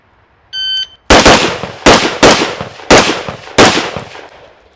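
Rapid gunshots at shooting-range targets: five loud, sharp reports in quick succession after a brief electronic timer beep, each with a short ringing tail, no talking.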